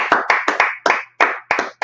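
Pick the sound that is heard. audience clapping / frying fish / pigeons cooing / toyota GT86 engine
audience clapping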